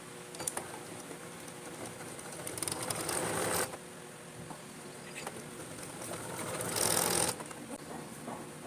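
A sewing machine runs in short bursts while stitching elastic onto fabric for an Iraqi-style prayer chadar or abaya, with mechanical clatter between pauses and no talk.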